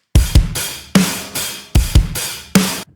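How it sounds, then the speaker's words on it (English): An acoustic rock drum loop in a bedroom pop track, with heavy kicks and crashing cymbal hits in a loose repeating pattern, loud and roomy with no talking. "The other drums within this track is just this rock drum loop."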